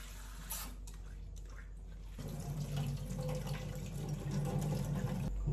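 Plant leaves rinsed under a running kitchen tap: quiet at first, then the water gushes in after about two seconds and keeps up a steady splashing flow to the end.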